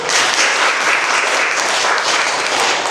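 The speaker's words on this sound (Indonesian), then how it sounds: "Tepuk tangan dulu Dewaru" Applause from a class or group during a teacher training session, a dense, even burst of many hands clapping continuously and fairly loud, with little talk.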